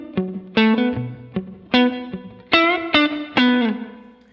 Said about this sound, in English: So good, short, splashy reverb, good for rhythm playing.